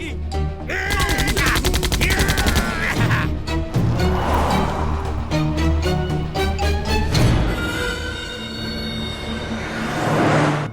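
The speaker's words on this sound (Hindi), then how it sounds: "अभी बंदूक पकड़. अरे मैंने आज तक पटाखों वाली चला नहीं तो मरेगा." Repeated gunshots and gunfire bursts in a Hindi comedy film scene, loud and rapid under a dense music score, with a few voice sounds and effects mixed in.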